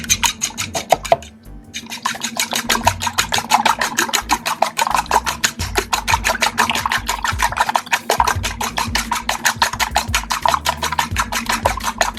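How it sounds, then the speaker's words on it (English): Eggs are mixed in a bowl with quick, regular strokes. The rapid, rhythmic clicking and scraping is steady and close throughout, with a brief pause near the start. "I'm just gonna mix these eggs and then place them to the side."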